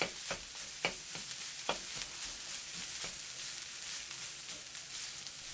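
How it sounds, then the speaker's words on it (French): Red cabbage stir-fried over high heat with salt and pepper in a pan: a soft, steady sizzle with irregular scraping and stirring knocks, faint and close, with no voices. "Je remue régulièrement pendant 3 minutes."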